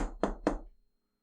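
Three sharp knocks on a door, evenly spaced and close, followed by silence.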